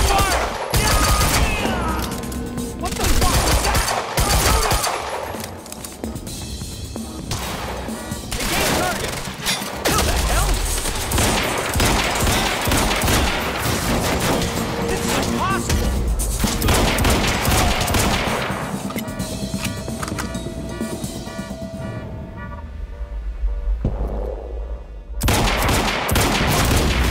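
Gunfire breaks out in a tense armed standoff, with bursts of shots and rapid automatic fire running through a dense, loud mix of music and effects, and people shouting at times.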